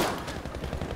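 Rapid automatic gunfire from a weapon in Battlefield V, a dense burst of close shots fired in quick succession for about a second, with no talking over it.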